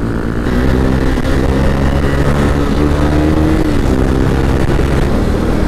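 A large motorcycle being ridden gives a loud, steady engine drone with a constant throaty hum throughout, with no voices over it.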